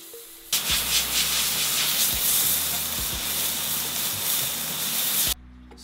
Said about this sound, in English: So using steam to remove and soften paint is actually one of the safest ways to do it